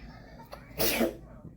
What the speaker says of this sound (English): They're sneezing because they shoved that thing up her nose.